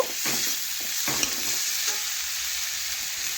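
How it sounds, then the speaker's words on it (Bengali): Spice paste and potatoes stirred and fried together in a pan for a Bengali prawn and bottle gourd dish, a steady close sizzle with soft scraping stirs at intervals, no voices. "এইভাবে আলুর সাথে মিশাতে মিশাতেই দেখুন আমি মশলাটা একটু ভেজে নেব"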